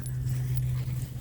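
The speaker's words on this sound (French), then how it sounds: "J'ai mon chien qui fait la folle" A dog playing excitedly near a vegetable garden makes brief whimpers and panting sounds, fairly close, over a steady low hum.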